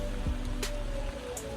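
Chicken stir fry sizzles steadily in a hot pan as sesame oil is drizzled in, a dense crackling hiss with a couple of brief sharper spits and a clink, no voices.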